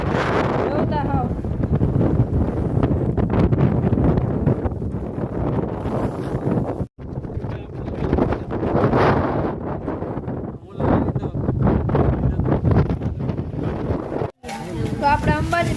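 Strong gusting wind buffets the microphone on the hillside steps of Girnar near Ambaji, a steady roaring rush with two brief dropouts, while people talk underneath.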